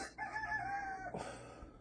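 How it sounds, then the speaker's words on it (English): A small rooster crows once, faint and distant, its call rising and trailing off over a soft background. "Must be that little rooster."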